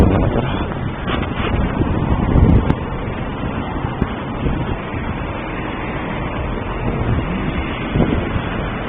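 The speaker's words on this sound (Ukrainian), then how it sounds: "Ну і зараз я сам відчуваю, що більш такий бурхливий вітер почався." Strong, gusty wind blows outdoors, buffeting the microphone with a loud, rough rumble that surges and eases throughout, with no talking.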